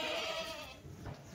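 A Kathiawari goat lets out a short, quavering bleat close by, fading quickly into a quieter pen background.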